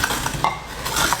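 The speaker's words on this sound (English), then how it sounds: "we're just going to add it straight to the pan. Ooh, you hear the sizzle?" Beef stock hitting a hot pan for hamburger gravy gives a steady, close, loud sizzle with broadband hiss and a few soft clinks of utensils, and no talking over it.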